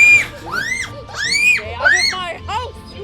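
A character in the video game Scary Teacher 3D screams in loud, high, rising and falling wails, several shrill bursts in quick succession, with voices close behind.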